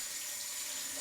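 Steady rush of water from a running tap as soap is rinsed off hands, a continuous close hiss with no talking.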